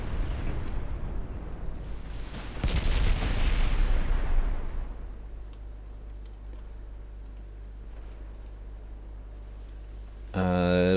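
Warship main guns firing in the naval game Ultimate Admiral Dreadnoughts, from a Norwegian ship with long-range single-barrel 11.9-inch guns: one heavy, booming report that rolls away into a long low rumble, followed by a quieter stretch.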